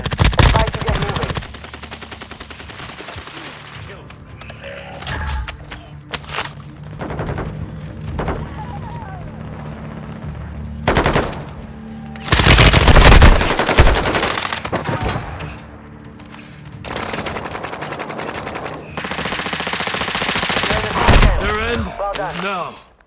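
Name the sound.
gunfire in the Warzone 2.0 video game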